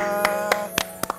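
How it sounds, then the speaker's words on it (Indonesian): A few sparse, sharp handclaps for Clara on a morning talk show, about five separate claps spaced unevenly over a quiet, steady background hum. "tepuk tangan dong buat Clara"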